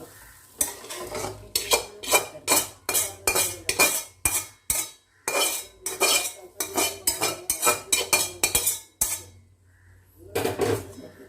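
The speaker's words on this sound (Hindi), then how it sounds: "अब इसको हम चलाते रहेंगे" Mutton mince with tomato is stirred in a pan with a spatula, giving a quick series of loud scraping strokes over a low sizzle. The strokes pause briefly and then resume near the end.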